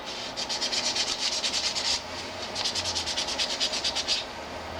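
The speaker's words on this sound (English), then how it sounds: "grab an old sheet of sandpaper and just scuff the outside of the brass tube to remove the shine of it" A sheet of sandpaper scuffs the outside of a brass pen tube in quick, even back-and-forth rubbing strokes, two runs of rasping hiss split by a short pause, close and fairly quiet.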